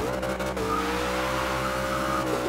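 A Dodge Charger R/T in Forza Horizon 2 launches hard, its engine note rising steadily while tires squeal loudly and continuously underneath, with no voices over it.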